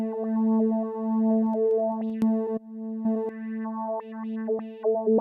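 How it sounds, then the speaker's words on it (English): A sustained synth tone through an Alesis GuitarFX step filter, a low-pass filter jumping in brightness abruptly in regular steps, giving a choppy, rhythmic texture. "It is a low-pass filter that randomly changes value in regular steps."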